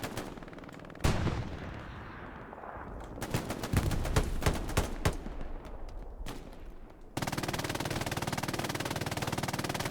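Machine gun fire in the Hell Let Loose shooter game: a heavy blast, then clustered rapid shots and bursts at varying distances, ending in a steady, close, continuous stream of automatic fire.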